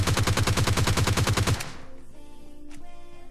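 Rapid automatic gunfire from a video game battle rattles out in a loud, tight burst for about a second and a half while an enemy is knocked down, then cuts off to quieter game sounds.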